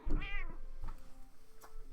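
A hungry cat meows loudly once up close, a clear rising and falling cry, followed by a couple of fainter, shorter mews.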